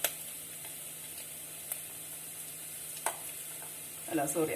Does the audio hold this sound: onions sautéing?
yes